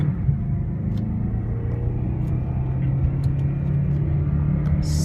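Low, steady exhaust rumble from a 2009 BMW M3 with DCT gearbox and Remus exhaust, driving along and slowing, loud and continuous with a few faint high ticks, no talking.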